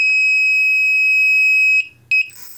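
A long, loud, high-pitched electronic beep from a brushless motor thrust-measuring device holds steadily, then cuts off, followed by one short beep and a faint hiss.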